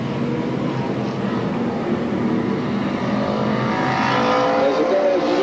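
Stock cars racing at Sandusky Speedway in 1985 give off a continuous roaring engine drone that swells toward the end as the pack passes, with a race announcer talking over it.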